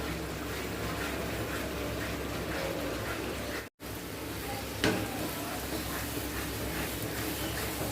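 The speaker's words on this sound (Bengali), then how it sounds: "এখন এটাকে আমি ভালো করে কষাবো।" Kabuli chana with fried onion and a little salt being stir-fried in a pan gives a steady, close sizzling hiss that cuts out for a moment midway, with a single sharp clink just after.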